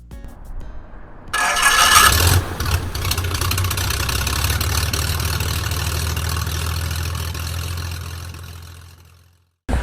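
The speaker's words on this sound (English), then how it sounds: "get the engine started and listen to that Corvair motor once" A Corvair aircraft engine cranks over, catches and settles into a steady, loud idle that runs for several seconds, then cuts off abruptly near the end.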